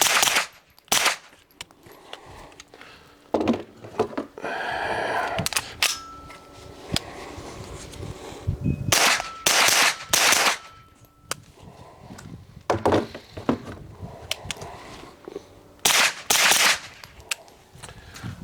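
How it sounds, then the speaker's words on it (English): Repeated gunshots from a Springfield Kuna firearm, loud sharp reports in several bursts of rapid shots with pauses and quieter handling sounds between, no talking. "So let me start shooting here a little bit."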